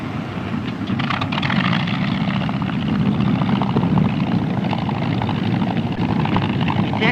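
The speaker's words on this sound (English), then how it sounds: "He's coming in, flying slowly and using his engine." A 1940 Royal Navy seaplane flies in slowly and low over the water toward a catapult ship, its engine a steady, loud propeller drone and rumble that holds throughout without talk.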